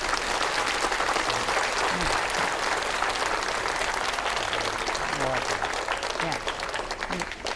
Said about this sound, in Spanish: Así que un gran aplauso.